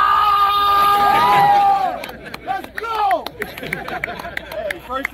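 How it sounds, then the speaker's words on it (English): An audience at a military community gathering bursts into loud applause and cheering that fades after about two seconds, followed by scattered whoops, shouts and murmuring from the crowd. "So please, just round of applause for Master Gunnz Sergeant Thevenin."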